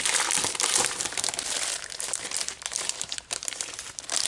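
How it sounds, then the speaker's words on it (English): Sheets of 12 by 12 scrapbook paper and a sticker sheet being handled up close, with loud, continuous crinkling and crackling that keeps shifting in rhythm and intensity, heard alone with no talk. "Okay, here is the 12 by 12 papers."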